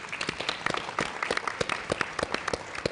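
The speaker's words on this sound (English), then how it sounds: "Let's give Brian a round of applause" An audience at a technology roundtable luncheon breaks into applause, a steady patter of many hands clapping at close range, with no voices standing out.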